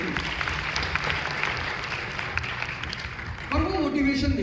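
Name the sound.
audience applause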